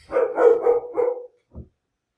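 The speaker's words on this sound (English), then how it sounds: "We got a barking dog. She might bark for a little bit." A dog barks in a quick run of four or five close, loud barks, then pauses and gives one short final bark.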